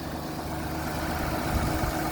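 A Jeep that had sat unused since October idles low on fuel, a steady rumbling engine hum with low throbbing pulses, close and continuous with no talk.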